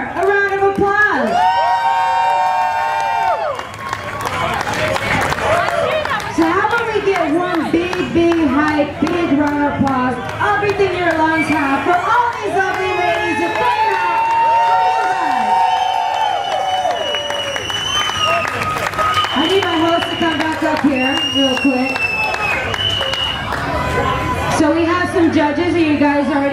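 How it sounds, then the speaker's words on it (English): Outdoor crowd at a bikini contest during Daytona Bike Week cheers, whoops and claps continuously, loud and dense, with shouted voices and an announcer talking over the noise. "Let's give Miss Edner a round of applause."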